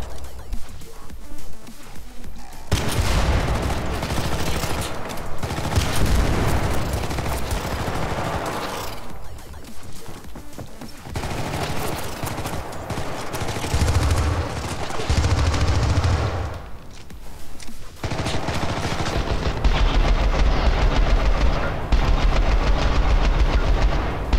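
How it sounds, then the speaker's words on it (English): Loud gunfire and heavy blasts from grenades in the Syndicate video game, bursts of dense noisy combat with brief lulls between them, and no speech. "Here, have some grenade."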